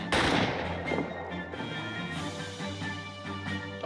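Dense gunfire from a WWI trench combat video game, sharp loud shots crowding the start and then continuing as a steady crackle of rifle and machine-gun fire over a low rumble, with no speech.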